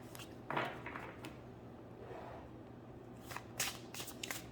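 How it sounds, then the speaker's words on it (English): A New Orleans Oracle card deck being shuffled by hand, soft riffling bursts and papery flicks close by and quiet, with a few sharper snaps near the end and no talking. "I'm going to shuffle all these in front of you"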